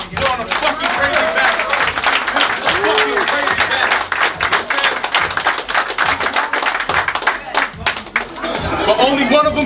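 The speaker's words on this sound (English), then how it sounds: "Make some noise, give a round of applause, do whatever you want." A rap battle crowd claps and cheers loudly and steadily throughout, dense applause mixed with shouts and crowd noise, with a few voices calling out over the din.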